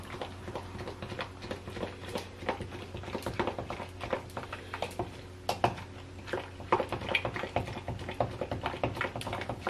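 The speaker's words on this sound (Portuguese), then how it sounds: "Um garfo é melhor para mexer." A fork stirring bacalhau fritter batter made with spoonfuls of flour in a cup, giving quick, light tapping and clinking against the container in an uneven rhythm, close and fairly quiet.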